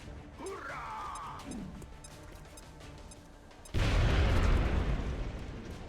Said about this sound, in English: We'll do a frag here.